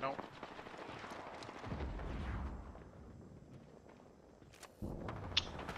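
Distant, muffled gunfire echoes through an Apex Legends match, irregular shots and low rumbling bursts rising midway and again near the end, while a voice talks over the fighting.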